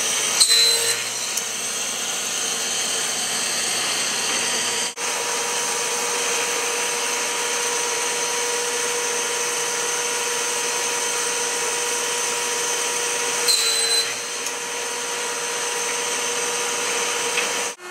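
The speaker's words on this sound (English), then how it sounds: "The book then goes across the glue rollers to get glue on it, goes over the cover where it will stop" Perfect binding machine in a print shop roughening, gluing and covering Corvair parts catalogs, a loud continuous mechanical whine and hum with sharp clunks near the start and at about five and thirteen seconds as the cycle repeats.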